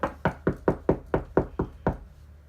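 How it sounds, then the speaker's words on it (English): Eight firm knocks on a door in a quick, even series, close and clear, with no voices. "somebody knocks on my door"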